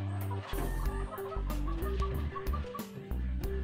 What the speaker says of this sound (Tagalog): Daming mga manok naghihintay po ng pagkain.